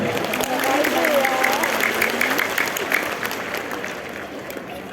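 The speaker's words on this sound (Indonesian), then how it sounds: "Tepuk tangan dulu buat kita semua." An audience at a motivational talk applauds steadily for several seconds, a dense wash of clapping that fades slightly toward the end, with a voice speaking over it.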